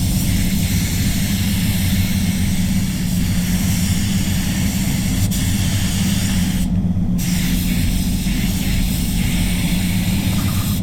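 Spray gun applying paint to a Skoda Kodiaq, a steady, loud hissing roar that runs unbroken with a brief dip partway through, with no speech.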